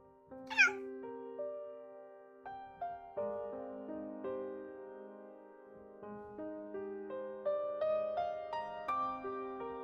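A cat gives a short, rising meow near the start, followed by a gentle melodic tune of sustained notes that carries on quietly to the end.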